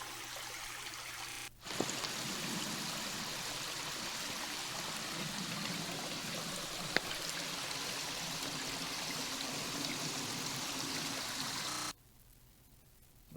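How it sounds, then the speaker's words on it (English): A waterfall's continuous broad rushing roar fills the scene at a steady level, cutting in abruptly and stopping just as suddenly near the end, with no voices. "Look at that waterfall."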